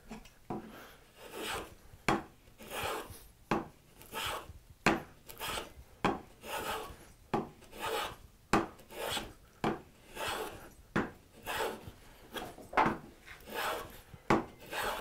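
A file rasps a point onto a marking gauge pin in rhythmic back-and-forth strokes, about one per second, close and crisp and steady throughout.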